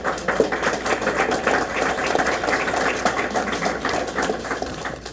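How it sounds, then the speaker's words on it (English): An audience at a county charter forum in Tennessee applauds the candidates: a steady, dense wash of many hands clapping that holds evenly for several seconds without pause. "Let's give them a round of applause."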